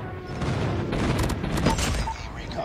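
A short burst of gunfire rattles out in a shooter video game, a dense cluster of rapid shots around the middle, loud and close with a booming low end, while someone talks over it.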